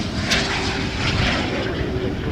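Fixed-wing airliner at Toronto Pearson Airport, its engine roar steady and fairly loud throughout, a broad continuous rumble with no talk over it.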